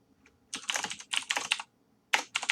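Loud typing on a computer keyboard comes in rapid, close clattering bursts of keystrokes with brief pauses between runs, crisp and nearby with no talk over it.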